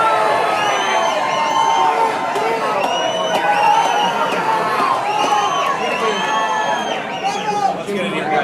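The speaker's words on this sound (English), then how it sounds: "President-elect Trump getting a pretty huge ovation from the members of our armed forces" A large stadium crowd at the Army-Navy football game roars and cheers in a sustained ovation, loud and continuous with whoops and shouts throughout.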